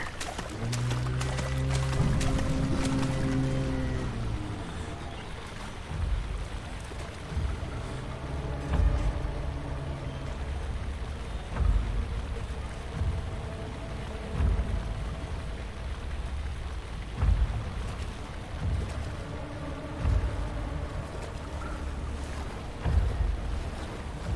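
Water in the horror video game Amnesia: The Dark Descent sloshes and washes in a steady, rolling wash, mixed with low droning ambience and occasional thumps, continuous and moderately loud throughout without any talking.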